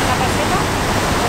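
A rushing glacial river in Norway gives a loud, steady roar of turbulent water, close by and unbroken for the whole moment.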